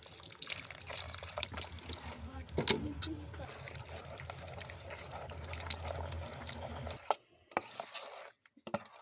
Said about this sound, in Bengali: অল্প অল্প করে জল দিয়ে ব্যাটারটা তৈরি করে নিতে হবে।